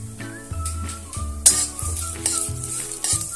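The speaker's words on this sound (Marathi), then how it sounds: "मेथी लाल होईपर्यंत परतून घ्या." Fenugreek seeds fry in a spoonful of oil and are stirred, making a short, bright sizzle with light metal clinks and scrapes from a utensil. Tonal music plays underneath.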